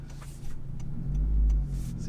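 A brand-new Honda Civic Si pulls away smoothly from a stop, its engine a steady low drone that swells and builds through the middle before easing off, close up with no talk over it.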